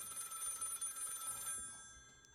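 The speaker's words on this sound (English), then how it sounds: "I have to answer this phone." Telephone ringing in the Spectra demo video game, a bright trilling bell that rings steadily, then stops and fades out, fairly quiet in the game's sound.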